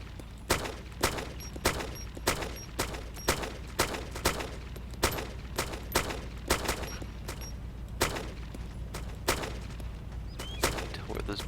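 Rapid gunfire in the military video game Arma 2, a steady series of sharp, loud reports about every half second, some overlapping, with a constant low battlefield rumble underneath.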